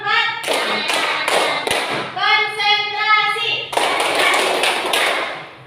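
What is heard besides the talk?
class clapping counted hand-clap pattern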